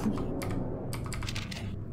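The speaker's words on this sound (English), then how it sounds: "I can faintly hear clicking coming from the ceiling" Faint, rapid clicking from above in the horror game Spooky's Jump Scare Mansion, coming in quick irregular bursts like tapping keys and growing denser partway through.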